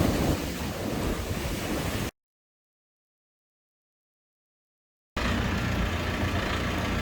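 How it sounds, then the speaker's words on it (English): Rolling ocean waves at Blackpool make a loud, windy roar of surf, heard in two stretches split by a few seconds of dead silence. "just a further few seconds of these amazing rolling waves"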